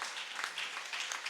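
A church congregation at a Sunday Holy Communion service claps hands together in a dense, continuous patter of many palms, fairly distant and roomy, with no clear talk over it.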